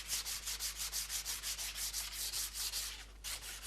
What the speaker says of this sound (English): Sand with fine sandpaper.